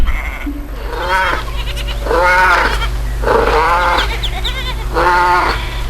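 A flock of sheep bleats loudly and close by, with four long wavering baas coming in a steady sequence over a constant low hum and without any speech.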